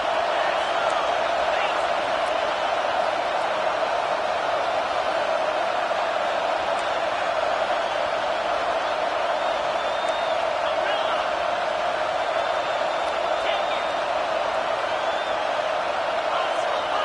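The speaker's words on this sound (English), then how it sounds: "Waning moments, huge 4th down, and this crowd is rising to the occasion." A football stadium crowd roars steadily through the waning moments of a game facing a big fourth down, a dense sustained wash of cheering and noise with scattered whoops and claps and no pause.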